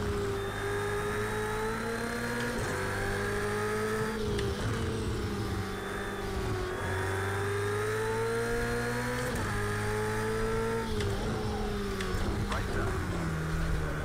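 Race cars overtake through the final corner at Laguna Seca in Project Cars 2, with a close engine whining and rising and falling through gear shifts and other cars roaring alongside over several passes.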